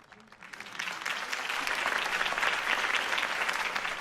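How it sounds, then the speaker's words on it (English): Enthusiastic applause from a large crowd swells quickly into a dense, sustained wash of clapping that stays loud throughout. "could have heard that applause"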